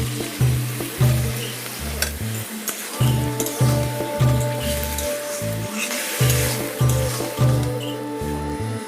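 Taro stems are stirred and fried in a pan, a steady sizzle broken by repeated scraping, knocking strokes of the spoon in an uneven rhythm, close and moderately loud, no talking.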